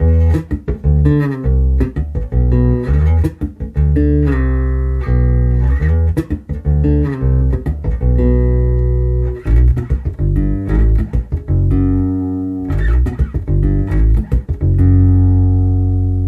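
Electric bass played alone on a Precision bass, a steady line of plucked notes jumping between low and high octaves, full and punchy.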